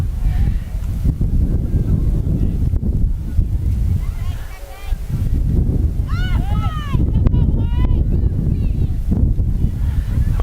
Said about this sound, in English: so it is a very windy day today.